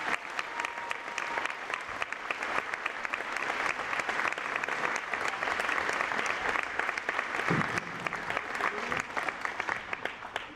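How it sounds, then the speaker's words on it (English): Sustained applause from an audience at a high school boys' varsity basketball game honoring seniors, dense steady clapping from a crowd filling a gym, with a few voices mixed in. "So please, a round of applause for these seniors."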